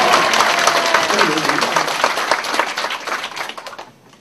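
Church congregation at a Yoido Full Gospel Church business mission service claps loudly and densely, a thick wash of applause that continues strongly before tapering off and fading out at the end.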